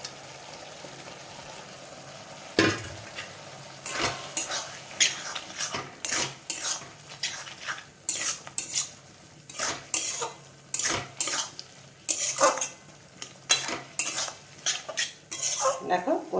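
A spoon stirs fried potatoes and spices with egg in a pan, making repeated scraping and clanking strokes against the metal over a soft background sizzle, irregular but steady and close.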